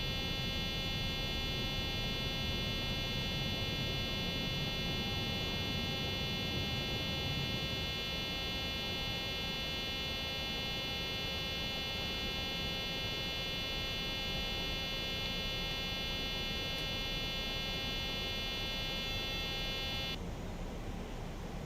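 A continuous high electronic warning tone with stacked steady pitches sounds in a PMDG 737 cockpit in a flight simulator game, droning without pause over a dense engine-like hum, then cutting off near the end.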